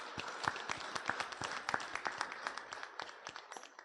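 A small audience at a Hindu teaching session claps for a couple's 59th wedding anniversary, with a quiet, scattered run of handclaps of uneven rhythm that sounds somewhat distant and fades toward the end.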